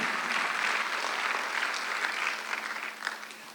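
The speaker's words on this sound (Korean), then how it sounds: "박수 한번 드리세요" A church congregation at a Sunday worship service claps together, a dense warm wash of applause that holds steady and then thins out toward the end.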